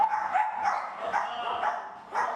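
A dog barks and yips in repeated short bursts inside a busy dog cafe in Seoul, close and fairly loud over steady background chatter.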